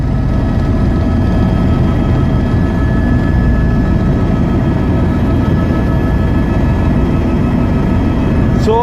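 Helicopter flying high above the Kumbh Mela gathering, its steady loud engine and rotor drone filling the cabin continuously without a break.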